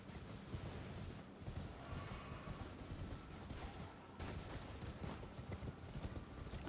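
Horse hooves clip-clop steadily on the ground in the fantasy video game Elden Ring, a continuous patter of footfalls at moderate volume over a low ambient rumble, with no voices.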